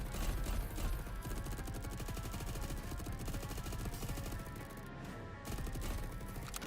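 Rapid automatic gunfire from a TDX combat drone in a video game, a dense continuous rattle of shots with heavy recoil, loud and sustained, with a brief dip near the end before firing resumes.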